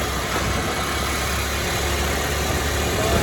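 A scooter engine runs on a road ride through hilly Himachal country, a steady, loud drone with wind rush and no pauses.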